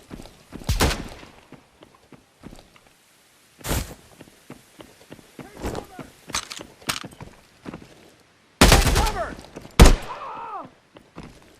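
Loud, sharp bursts from an M1911 .45 ACP pistol in the video game Exfil Zone, several isolated shots spaced irregularly with a clustered volley near the end, amid softer footsteps and thuds.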